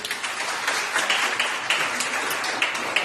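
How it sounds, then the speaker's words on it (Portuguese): A church congregation claps together during a worship service, a steady dense patter of many hands sustained throughout at moderate level. "Aplaude o Senhor."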